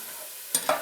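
Bacon for Polish żurek sour rye soup laid into a pot, giving a short burst of sizzling and frying that flares twice within a second after quiet kitchen hiss.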